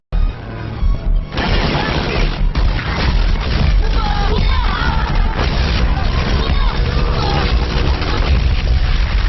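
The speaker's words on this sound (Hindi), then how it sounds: "अब वो मशीन गनों से गोलियां चला रहे हैं" Dense, continuous loud machine-gun fire with rapid overlapping bursts and booming blasts, a sustained battle din throughout.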